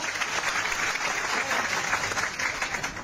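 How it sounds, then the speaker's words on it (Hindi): An audience at a business motivational gathering bursts into dense, continuous applause. The clapping stays steady and strong throughout, with no voices over it. "एक बार जोरदार तालियां।"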